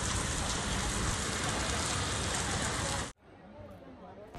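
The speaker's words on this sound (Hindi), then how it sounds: "देखिए वहाँ पे कितनी बारिश हुई।" Heavy rain pours down at Jebel Ali in Dubai, a loud dense hiss of drops on surfaces that cuts off abruptly after about three seconds, leaving quieter drips and residual patter.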